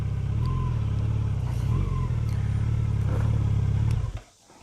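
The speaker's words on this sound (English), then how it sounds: "I'm going to park the mighty FJR here in the shade." A Yamaha FJR1300 motorcycle idles with a steady low rumble as it is brought to a stop and parked, then the engine note drops away abruptly near the end, leaving quiet.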